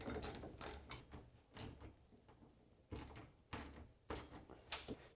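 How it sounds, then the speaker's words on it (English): A 10mm socket ratchet loosens mounting nuts on a Tusk spare tire carrier fitted to a Yamaha Wolverine RMAX4 1000, giving short bursts of ratcheting clicks in several separate spurts with pauses between them. "I'm just using a 10mm socket to loosen these nuts up."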